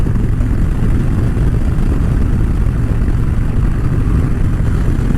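A Harley-Davidson motorcycle accelerates, its engine a dense, loud, continuous rumble that holds steady throughout with no voices.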